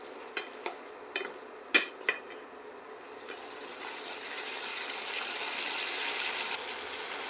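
Tomatoes and cinnamon bark sautéing in a pan, with a few sharp clinks of a utensil against the pan at the start, then a soft, steady sizzle that slowly builds.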